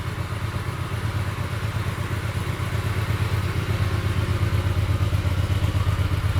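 A 2012 Hyosung GV250 fuel-injected motorcycle idles steadily just after starting, its engine giving off a close, even low rumble with a quick regular pulse that holds for the whole stretch.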